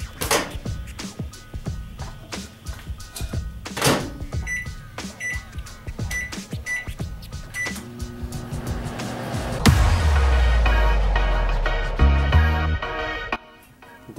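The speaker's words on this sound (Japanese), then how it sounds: "それでは3分電子レンジに入れたいと思います。" Clicks and beeps from pressed buttons, then a low steady hum as a microwave oven heats a cup of instant noodles for several seconds before stopping.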